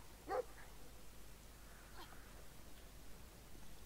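A dog in the video game Brothers: A Tale of Two Sons gives a single short, faint bark, followed by a few softer yips against a quiet background.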